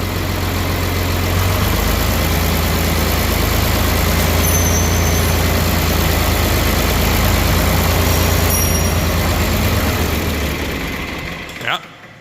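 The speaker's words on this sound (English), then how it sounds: "I was working the throttle as it was slowing down to keep it idling" A tractor diesel engine idles with a steady, heavy rumble for several seconds, then stumbles and cuts out near the end.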